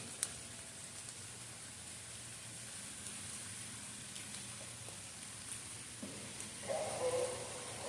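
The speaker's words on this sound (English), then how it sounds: "since it's raining" Steady outdoor rain in Hilliard, Ohio, a soft continuous hiss of drops falling on surfaces, faint and even, with a slightly louder stretch near the end.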